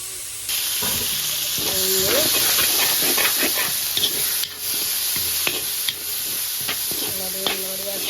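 Three chopped tomatoes sizzle loudly in hot oil in a pan while a spoon scrapes and stirs through them in repeated strokes, over a constant steamy hiss, for a Batticaloa-style rice flour puttu dish.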